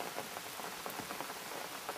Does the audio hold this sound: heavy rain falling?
yes